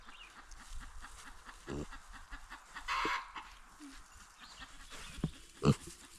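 Pigs on a homestead grunting and snorting as they eat alfalfa, low rough grunts and a few sharper squeals at moderate distance over soft background rustling; no talking.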